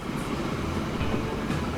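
A train runs along its line in the Transport Fever 2 video game with a steady, low rumbling roll, heard alone and at moderate loudness.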